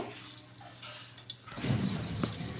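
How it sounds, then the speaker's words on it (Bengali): Mango pulp drips and trickles through a strainer in a home kitchen while being made into aamsotto, a soft, close liquid patter that grows wetter and busier in the second half, with no talk. "এই ছাঁকুনিতে আমি ঢেলে দিচ্ছি পুরো আমের কাতটাকে"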